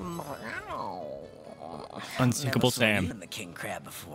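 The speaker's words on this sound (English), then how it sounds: "That's a cat!" A cat meows in the video game Divinity: Original Sin Enhanced Edition, a short rising mew heard close, with game dialogue voices talking over and after it.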